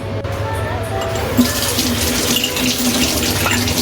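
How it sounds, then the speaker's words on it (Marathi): Running water pours steadily from a tap, a continuous rushing splash as small deity idols are rinsed beneath it, close and fairly loud. "तर पाणी टाकून स्वच्छ धुवून घेऊया"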